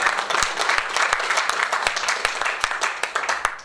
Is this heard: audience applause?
yes